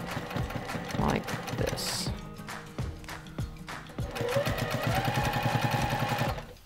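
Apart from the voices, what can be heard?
sewing machine stitching down selvedge edge of fabric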